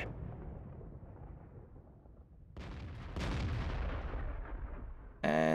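A tank artillery shot booms out in the World of Tanks video game, a loud broadband blast at about three seconds following quieter rumbling combat noise, with another sharp burst near the end.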